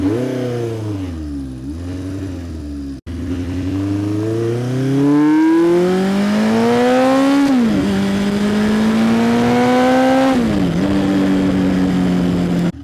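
A 1973 Honda engine stumbles into life in an underpass, then pulls through a series of loud, echoing revs that each climb and drop back, close and sustained.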